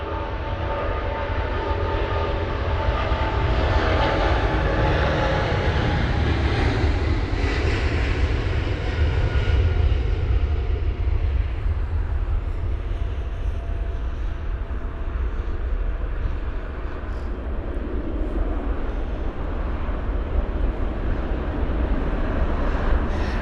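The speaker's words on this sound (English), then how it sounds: "We've got two A380s picking up now" Two Airbus A380s, a British Airways jet and an Emirates jet, spool up for takeoff at London Heathrow in stormy weather, a deep continuous engine roar building and holding at a distance with no voices.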